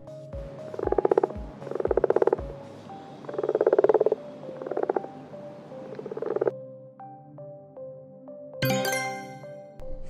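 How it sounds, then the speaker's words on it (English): Frog croaking in loud, close bursts of rapid rattling calls, several repeated groups at a steady pace, followed by softer chime-like tones and a bright ringing flourish at the end. "Frog."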